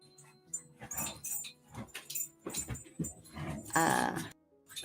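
Dogs growl, snarl and yelp in a scuffle, with sharp bursts and whimpers coming in uneven flurries, fairly close.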